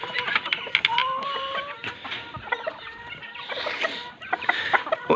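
Several hens cluck and squawk in short, busy bursts close by in a backyard pen, with some rooster-like calls among them and no speech.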